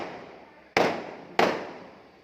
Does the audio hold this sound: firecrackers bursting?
yes